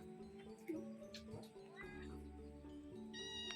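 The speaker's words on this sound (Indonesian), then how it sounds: "Kucing." A cat meows a few times during a flooded village earth-alms festival at a pendopo, with short tonal cries amid background noise and other sounds.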